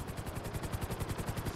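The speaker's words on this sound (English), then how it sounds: "So the helicopter seems a lot faster," A helicopter in the Grand Theft Auto video game gives off a fast, steady rotor chop with a rhythmic low thumping pulse, loud and alone without voices.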